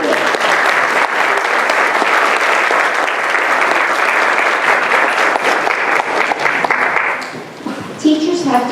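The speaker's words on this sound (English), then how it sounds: "let's all give you a round of applause for your support" A board of education audience in a school meeting hall bursts into sustained applause, dense and loud clapping from many hands lasting several seconds before tapering off at the end.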